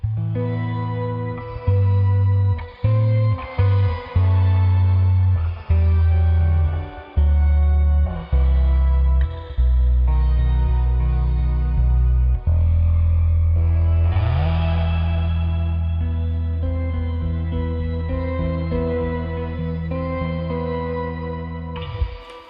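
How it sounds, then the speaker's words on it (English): A deep, heavily reverberant bass guitar line through a Line 6 HX Stomp reverb, with shimmering tones one and two octaves up swelling above it, notes sustaining and blending into a lush wash. "octave, 2 octaves up actually. 1 octave up and then 2 octaves up."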